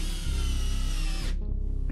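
A Bosch 12V brushless Flexiclick power drill runs at a steady high whine for over a second, then spins down abruptly and stops, loud and close with no voices.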